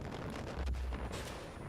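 Explosions in the video game Far Cry 5 Arcade during PvP multiplayer, a dense, continuous rumbling barrage of blasts and gunfire that swells briefly in the middle, with no talk over it.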